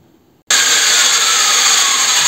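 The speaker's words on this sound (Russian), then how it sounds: "Болгарка еще не остановилась." An angle grinder on a metal workpiece kicks on abruptly after a brief quiet moment, then whirs loudly and steadily at full speed with a bright, hissing whine. No slowing or spin-down is evident.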